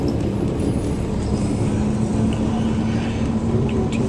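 Inside a 2011 NABI New Jersey Transit bus on route 62 to Newark Airport, a steady low engine drone with road rumble and a sustained tonal hum fills the cabin, with faint rattles and no talk.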